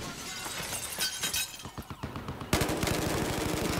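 Grenade blast and gunfire in the video game Battlefield Hardline: scattered shots and shattering crashes, then a sudden loud burst followed by rapid automatic fire, with no talking.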